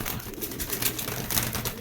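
A one-side white racer pigeon pair, a male and a female, gives soft cooing over a noisy, close background in one short burst.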